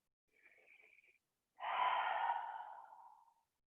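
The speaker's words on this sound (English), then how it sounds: "I'm going to take about 5 deep breaths here." During a hip-focused yoga practice, a soft nasal inhale is followed by a fuller, longer exhale, close and quiet, with no talking.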